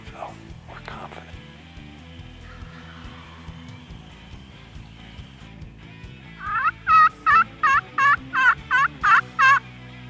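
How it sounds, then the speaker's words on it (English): Wild turkeys gobble from a ridge top, a rapid run of about eight loud, close gobbles bursting out one after another after a quieter stretch with a few faint calls. "we got birds gobbling already."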